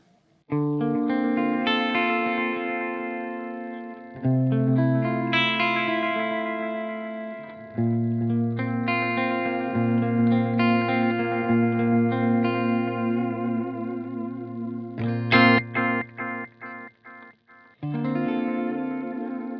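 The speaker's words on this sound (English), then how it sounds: "Kick that digital delay in, and it will give you delays" Clean electric guitar notes and chords through a Boss DD-8 digital delay pedal ring out with repeating echoes trailing each phrase, giving a spacious, layered sound with no voices.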